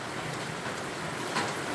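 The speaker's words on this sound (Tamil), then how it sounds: "கனமழையானது இடைவிடாது புதுச்சேரியில் பெய்து கொண்டிருக்கிறது" Heavy, steady rain pours in Puducherry during a cyclone, a dense, even hiss of falling water with no pauses, close and fairly loud.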